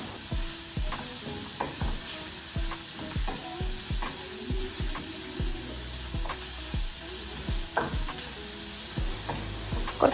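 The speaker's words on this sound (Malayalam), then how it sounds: "ഇനി നമുക്ക് ഈ ഒണിയനൊന്ന് നന്നായിട്ട് വേവിച്ചെടുക്കാം" Onions cook in a hot pan, a steady sizzle running throughout while a spoon scrapes and stirs in regular, repeated strokes, close and fairly loud with no voices.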